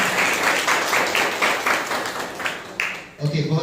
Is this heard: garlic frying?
no